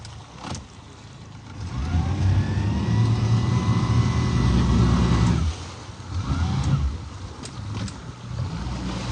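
Engine of a rescue boat running over floodwater near Harike, Ferozepur, a loud steady mid-pitched drone that holds for several seconds, drops off briefly, then resumes at a lower level, with no talk.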